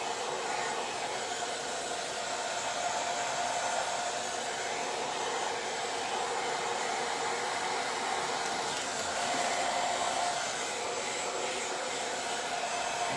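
A hair dryer blows steadily while drying a handmade tabletop beehive, a loud continuous whoosh holding at an even level throughout with no voices.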